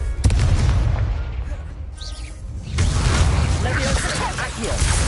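A Confringo blasting-spell effect goes off as a loud, booming explosion with a rumbling tail, followed by a second burst of heavy crackling noise.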